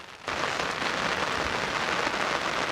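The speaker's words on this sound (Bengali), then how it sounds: "এখন মুষলধারে বৃষ্টি হচ্ছে" A dense, steady roar of heavy monsoon-style downpour in a Bangladeshi village begins abruptly and continues without letup, loud and close.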